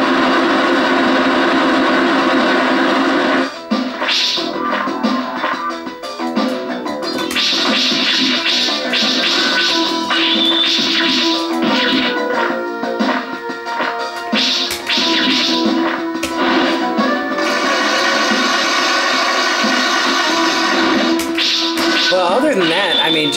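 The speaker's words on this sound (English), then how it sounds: "this is where the kind of noise is just a little bit too much for the waterfall" Steady hissing waterfall rush from the Neo Geo MVS arcade game Ganryu, a constant broadband wash running beneath game music and effects, with someone commenting throughout.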